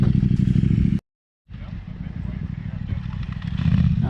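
A dual sport motorcycle rumbles along a dirt trail in Washer Valley, its engine loud and rough with clattering from the ground. It drops out abruptly for a moment, then returns and builds again while someone talks over it.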